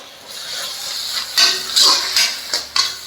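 A spoon stirs green chilli sauce and soy sauce together in a pan while cooking dragon chicken. Several scraping, sizzling strokes come in short bursts over a soft, steady hiss.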